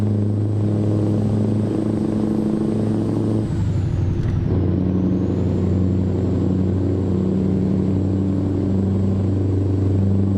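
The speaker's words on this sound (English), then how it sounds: "I'm going to turn the engine noise down a little bit, the game sound down a little bit" Truck engine in a modded driving game, a loud steady low rumble with sustained tonal hum and a brief shift in pitch midway.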